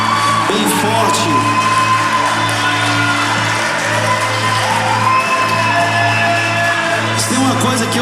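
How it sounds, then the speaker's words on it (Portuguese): A church congregation cheers loudly for Jesus, a continuous dense crowd roar of whoops and shouts over a sustained musical drone, close and full for the whole stretch. "Você pode aplaudir a Jesus bem alegre, bem forte."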